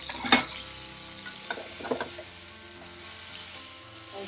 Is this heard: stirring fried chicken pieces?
yes